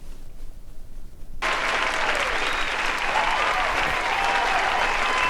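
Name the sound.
audience clapping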